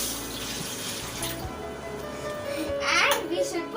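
Water pours into a pan on a stove for boiling apples into homemade fruit jam, a short splashing rush that swells near the end while someone talks over it.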